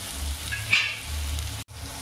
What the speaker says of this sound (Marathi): परत जरा आपण हळदीला 1 मिनिट शिजवून घ्यायची आहे।